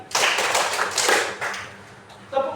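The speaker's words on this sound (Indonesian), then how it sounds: "Tepuk 3 kali." Schoolchildren clap in unison in a classroom, a few strong grouped claps close together that taper off, with a teacher's voice coming in at the end.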